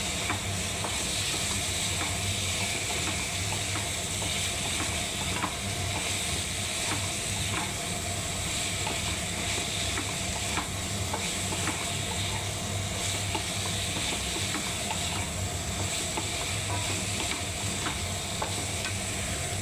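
Paneer pieces fry with a dense, constant sizzle and hiss in a pan for a paneer sabzi, while light, regular stirring taps run beneath it and no one speaks.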